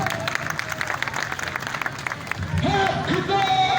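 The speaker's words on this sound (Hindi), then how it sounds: "भरपूर तालियों में खुशामदीद।" Crowd applause at a rainy street protest by junior teachers, welcoming arriving female teachers; dense clapping mixed with shouting voices, then a voice and tonal sounds rise near the end over the crowd.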